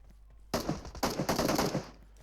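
Gunfire in the Free Fire mobile game, two loud bursts of rapid automatic shots close together, following quiet background.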